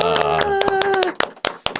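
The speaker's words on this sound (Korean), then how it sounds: "박수로 맞아주시기 바랍니다." A studio audience claps to welcome a guest on a Korean political interview show, a few sharp, close claps that follow a brief spoken line.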